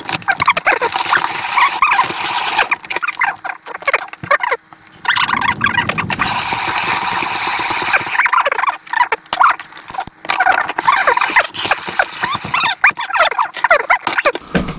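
A hand-cranked shaved ice machine grinds through a block of ice at home, giving loud, rough scraping and rasping bursts with brief pauses between turns of the crank.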